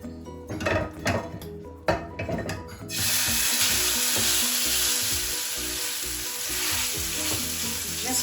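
Pork loin hits a pan of hot olive oil, with a few clinks and pan knocks giving way to a loud, steady sizzle that continues close and unbroken.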